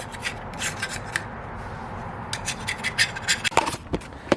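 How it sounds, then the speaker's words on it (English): Razor blade scraping old silicone sealant off the metal of a Nissan 350Z differential, heard as a series of short, close rasping strokes that get busier and louder toward the end. "just take one of these razor blades and just scrape off the old silicone that was here"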